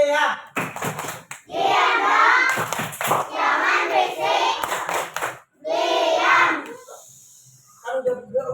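Schoolchildren in an Indonesian classroom doing the tepuk diam clapping routine, with sharp rhythmic hand claps in quick bursts and chanting voices in between.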